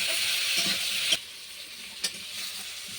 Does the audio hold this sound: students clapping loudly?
no